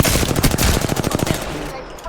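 Rapid automatic gunfire from a firefight in Apex Legends, a dense burst of loud, closely spaced shots that thins out toward the end.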